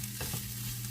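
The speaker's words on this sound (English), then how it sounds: "you definitely want to give them a good stir" Steak fajitas sizzling in a pan get stirred, a steady frying hiss with a couple of soft scrapes early on, close and continuous with a low hum beneath and no talking.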